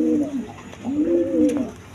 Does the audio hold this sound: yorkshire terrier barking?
no